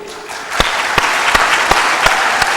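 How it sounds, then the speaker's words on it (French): A church congregation claps in a steady crowd applause with a few sharp, rhythmic louder claps punching through the wash of hands, loud and close, with no talk. "Ah, applaudissez."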